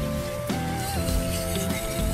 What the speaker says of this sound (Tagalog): Sobrang lakas ng ulan guys oh.